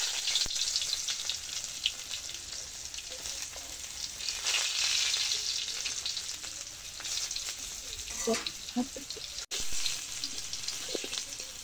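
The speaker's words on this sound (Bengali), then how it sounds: "তো এগুলা দিয়ে এখন ডালগুলা বাগার দিবে" Garlic tempering sizzles into boiling thin masoor lentil dal on a clay stove, a steady loud hiss throughout with a few sharper crackles near the end; faint voices briefly.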